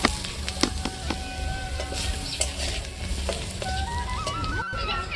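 Steady sizzling of brinjal frying in oil with scraping stirs and occasional clatter, close and continuous, no voices.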